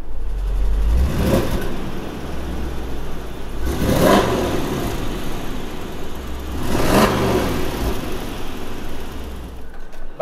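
Range Rover Sport SVR with quad exhausts, its engine blipped in three separate throaty revs that rise and fall back to a low idle rumble, heard close and alone.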